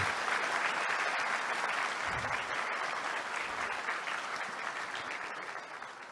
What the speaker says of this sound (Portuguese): Vamos aplaudir o Senhor, ele merece.